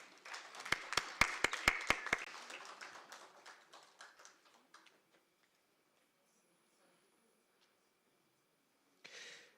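Audience at an education festival claps for colleagues taking their seats; a few loud, sharp claps up close at first, then scattered applause thinning out to silence, with a brief rustle near the end.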